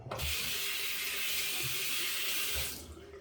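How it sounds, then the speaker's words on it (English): Water from a tap runs steadily over the base plate of a Razorock Hawk v3 single-edge safety razor, a close rushing splash with faint clatter of the metal part at the start and end. "Rinse out the base plate"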